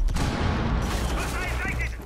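A grenade explosion in a video game, a burst of rumbling blast noise that fades out within a couple of seconds, moderately loud amid game sounds.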